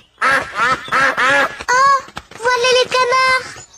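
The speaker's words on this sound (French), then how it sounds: "Voilà les canards." Cartoon ducks from a French Peppa Pig episode quack loudly and repeatedly in quick rhythmic bursts, close and clear, with voice actors voicing the calls.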